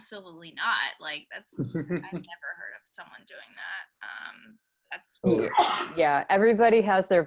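A single sharp sneeze bursts out near the start of a relaxed conversation, followed by people continuing to talk casually in the same room.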